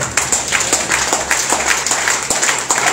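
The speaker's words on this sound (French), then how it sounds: "Acclame très fort pour toi." A church congregation applauds at a Sunday service: steady, rhythmic clapping from many hands, close and fairly loud, continuing evenly throughout.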